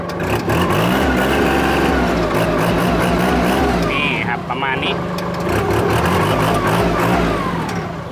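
A used Kubota L3608DT tractor with about 2,250 working hours idles steadily on its original factory engine, a close, continuous diesel rumble and whir, with someone speaking briefly over it.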